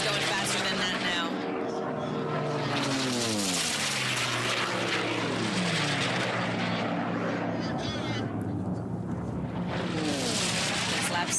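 The unlimited-class racing plane Miss America roars past during a Reno Air Races race. Its engine note sweeps down in pitch as it goes by, loud and sustained, with race commentary heard over it.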